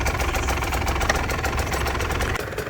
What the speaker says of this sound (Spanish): aquí les dejo este sonido increíble de esta Husqvarna mamacita